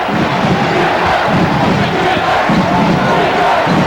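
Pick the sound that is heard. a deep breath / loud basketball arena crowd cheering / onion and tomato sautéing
loud basketball arena crowd cheering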